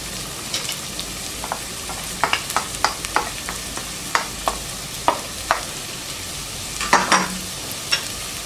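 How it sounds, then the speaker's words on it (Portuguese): Onion sautés in olive oil in a pan, giving a steady sizzle with scattered clinks and scrapes of a utensil stirring, close and fairly loud, with no voices. "agora aqui na panela eu vou colocar um fio de azeite e vou refogar a cebola"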